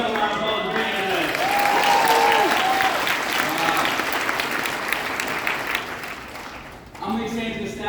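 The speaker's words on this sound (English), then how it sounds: "Give yourself a round of applause" Audience applause at an inspirational talk, a dense, steady wash of clapping filling the hall for about seven seconds before fading, with a voice returning near the end.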